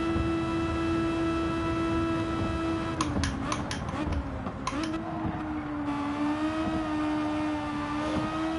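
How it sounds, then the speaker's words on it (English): A Honda VTEC engine screams at a high, steady pitch in Gran Turismo 7 at close to 150 mph, the tone dipping briefly during a burst of clicks and shifts before holding again, loud and continuous. "I'm just going close to 150 mile an hour, screaming that VTEC engine out"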